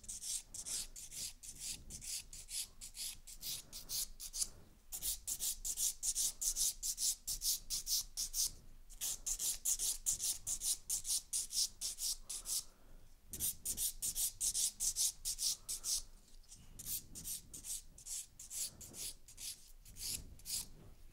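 Rapid, steady rasping strokes of a nail file shaping acrylic-gel hybrid nails into an almond shape, in close bursts with a few short pauses between passes.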